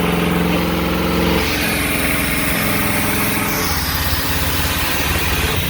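A loud motorhome engine running lean runs steadily up close, its rough idle breaking into occasional small pops and sputters.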